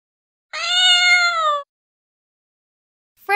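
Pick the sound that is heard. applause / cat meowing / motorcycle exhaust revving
cat meowing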